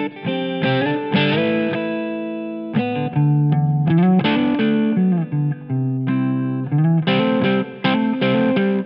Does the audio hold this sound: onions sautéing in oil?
no